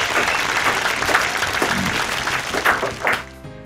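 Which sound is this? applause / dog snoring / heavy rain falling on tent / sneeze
applause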